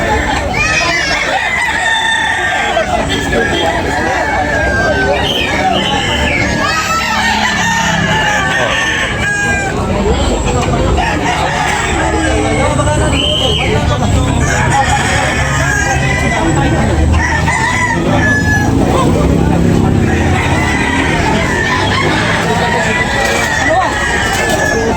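Roosters crow and chickens cluck amid a noisy crowd of people talking at a chicken auction expo in Tabunok, Talisay, a busy, continuous outdoor hubbub.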